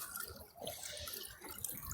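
Water runs steadily out of a drainage pipe near a cemetery, a close continuous trickling and splashing with small gurgling variations and no speech over it.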